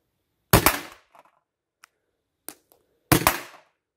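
Homemade balls are fired, giving two loud, sharp bangs about two and a half seconds apart. Each bang has a short ringing tail, with a few faint clicks and knocks between them in otherwise quiet surroundings.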